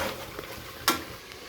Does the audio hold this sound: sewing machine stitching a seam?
no